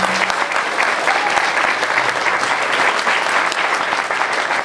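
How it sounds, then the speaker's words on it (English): Audience applauding at a convention opening ceremony, a dense, steady burst of clapping from a crowd that holds at an even level for several seconds with no voices standing out. "please round of applause for"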